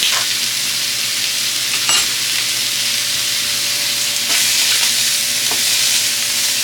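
Food browns in a hot pan while a quiche is being made, giving a loud, steady sizzling hiss close by. A few faint clinks and scrapes break the sizzle, with no talking.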